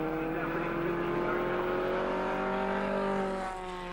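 Pre-1966 Formula 1 racing cars at Silverstone howl past in a steady, high-pitched engine drone, sustained and fairly distant, fading slightly at the end.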